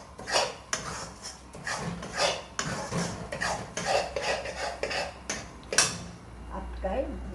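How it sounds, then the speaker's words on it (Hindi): Freshly cooked Mysore pak scraped and poured from a kadhai onto a plate: close, repeated metallic scrapes and knocks of a spoon against the pan, with a clunk near the end and a voice talking intermittently. "अब इसको हम ऐसे ही ये थाली में डाल देंगे।"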